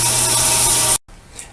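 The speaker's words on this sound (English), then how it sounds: "look like it's sawing fairly straight" A saw blade cutting steadily through a part in a shop, a loud continuous high-pitched grinding whine with a low hum that stops abruptly near the end, leaving faint quiet noise.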